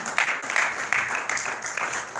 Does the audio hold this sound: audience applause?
yes